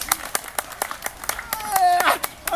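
A crowd claps in a quick, steady rhythm, nearby and fairly loud, while people talk and call out over it.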